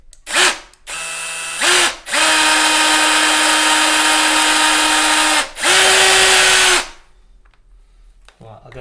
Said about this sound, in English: I'll probably go in a little bit deeper and maybe just up the size of the drill a fraction.